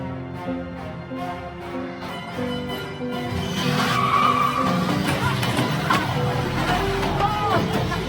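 A car accelerating hard in a film scene, engine rising with tires skidding and squealing, loud and building over the second half, mixed with music and a background murmur of voices.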